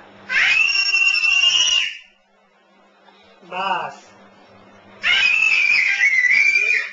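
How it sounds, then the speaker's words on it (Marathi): Someone shouts loudly twice, long piercing high-pitched yells separated by a short spoken word, close to the listener. "आणि ओरडतो कसा जोरात"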